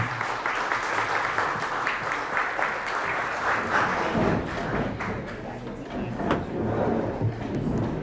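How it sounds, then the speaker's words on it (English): A luncheon audience gives a loud, sustained round of applause for a guest speaker, with a few thumps and taps mixed into the clapping as it carries on. "If we could give her a round of applause for being with us."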